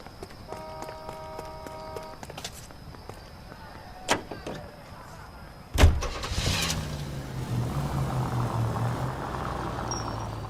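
A car's engine starts up and idles in the 1940s Los Angeles of L.A. Noire after footsteps and small clicks, then settles into a steady low rumble, fairly close.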